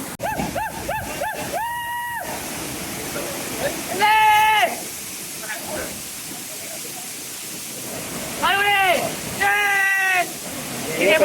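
Adoshi waterfall roars as a constant broadband wash of falling water, while excited voices shout and call out loudly over it in several bursts.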